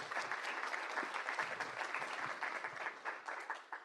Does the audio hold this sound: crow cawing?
no